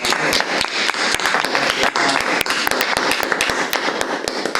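A room of people at a talk on wiring diagrams applauds, scattered claps building into steady clapping, with a few louder sharp claps standing out nearby.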